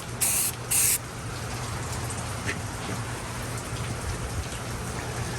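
Restored parts of a vintage Porter Cable 146B circular saw get a coat sprayed on, two short loud hissing bursts near the start, then a steady soft spray-like wash.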